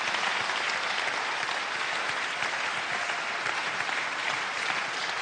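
An audience at a national awards ceremony applauds steadily, a dense and even wash of many hands clapping that holds at a moderate level from start to finish.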